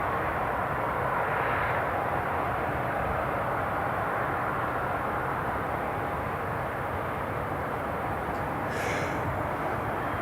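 An Italian Air Force C-27J turboprop drones steadily at Newcastle International Airport, a constant broad engine rumble that holds at one level throughout with no talk.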